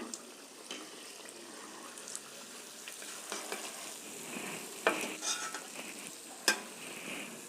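Hilsa fish pieces frying in hot oil, a steady soft sizzle with occasional brighter crackles and pops as the pieces are turned, no talking.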